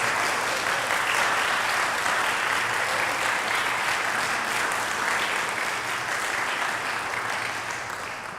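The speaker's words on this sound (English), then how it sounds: "Please give him a big round of applause." Steady, full applause from the audience at an organ recital, honoring the AGO's retiring director; a dense, even wash of clapping that holds throughout and tapers slightly near the end.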